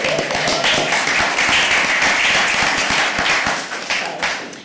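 A room at a city commission meeting breaks into a round of applause, loud and close clapping from many hands that stays steady for several seconds before beginning to thin out.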